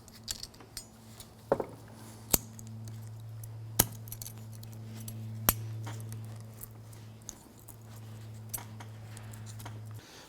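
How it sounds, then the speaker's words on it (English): Metal brake pad shims on a 2004-2008 Acura TL front brake being handled, with scattered sharp clinks and taps over a steady low mechanical hum, close and fairly quiet. "I'm going to take our shims, going to line these up and pop these into place."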